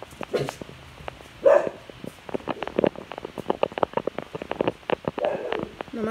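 A dog barks a few times in short bursts, close by, amid scattered snuffling and rustling noises.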